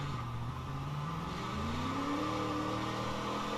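Engine of a crashed, bent car in a crash simulator video game, a steady mid-pitched drone that rises in pitch as it revs up and accelerates, loud and continuous with no talk over it.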